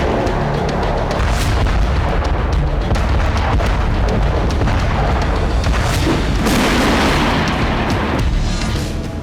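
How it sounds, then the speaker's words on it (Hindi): Heavy, continuous rumbling blasts roll one into another at a Ukrainian weapons depot, loud and chaotic, with sharp cracks and booms of repeated explosions and no speech. "यूक्रेन के हथियारों के गोदाम पर धमाके होने लगे।"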